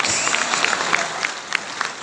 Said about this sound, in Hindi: हाँ बजा लो ताली भाई